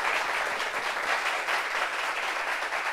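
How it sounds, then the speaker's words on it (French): Sustained studio audience applause on a television talk show set, a dense, even wash of many clapping hands, steady and fairly loud for the whole stretch, with no voices over it. "Applaudissements pour lui,"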